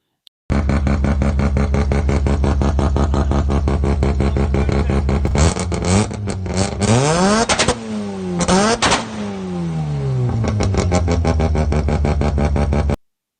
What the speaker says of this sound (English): one of the best-sounding cars ever made, and with an engine that revs to the moon